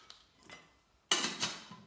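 Small metal camping cookware pots from a lightweight backpacking mess kit clink and rattle, with faint taps early on and then a louder burst of metallic clatter as a pot is handled.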